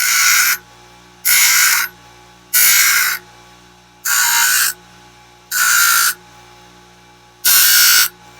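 A straight razor blade is ground on a spinning grinder in six loud, evenly spaced passes of harsh rasping, each lasting about half a second, with a steady motor hum between them.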